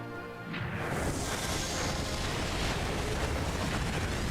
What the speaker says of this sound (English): it's firing a tornado made of fire